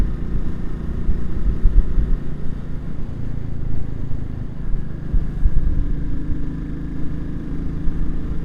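Royal Enfield Classic 350 motorcycle engine running on the road, a steady low thumping drone that holds fairly loud throughout with slight swells, no talk over it.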